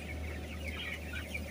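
Small broiler chicks cluck and cheep softly in a closed-house barn, faint and busy above a steady low hum of ventilation blowers.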